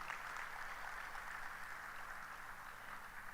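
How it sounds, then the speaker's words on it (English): Audience applause at a securities market symposium, a steady dense wash of clapping from a large crowd that holds evenly for the whole stretch with no voices over it. "warm round of applause, ladies and gentlemen"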